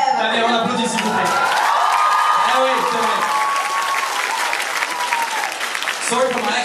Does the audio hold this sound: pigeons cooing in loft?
no